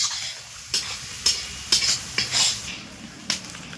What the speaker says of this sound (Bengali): পেঁয়াজটা অনেকক্ষণ ধরে ভাজা হচ্ছে